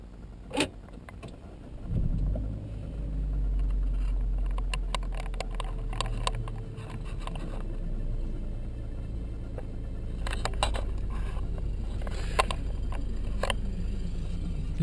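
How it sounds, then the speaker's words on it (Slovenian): A Peugeot 508 car is started, its engine catching at about two seconds into a steady low idle hum heard up close inside the cabin, with scattered clicks and button taps over it. "Kje prižgemo avto?"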